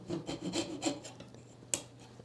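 A hand saw cuts a wooden lattice bar for a traditional window frame with several quick, rasping back-and-forth strokes, close and fairly quiet, ending in a brief sharp tap.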